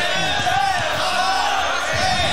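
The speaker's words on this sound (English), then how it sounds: "Got the crowd going." Crowd at a Smash Ultimate grand finals esports event roars and yells loudly throughout, a dense wall of many cheering voices with no break.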